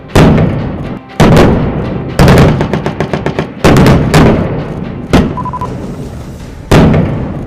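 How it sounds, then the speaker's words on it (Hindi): Heavy artillery guns firing during a large India-US joint military exercise at a desert field firing range, heard as a series of loud, booming blasts spaced about a second apart, each followed by a rolling echo. "रेगिस्तान पर गरजती तोपों की गूंज"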